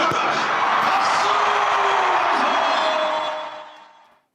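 A large stadium crowd at an FC Seoul K League football match cheers and applauds loudly in a continuous roar, with whoops rising above it before the noise fades out at the end.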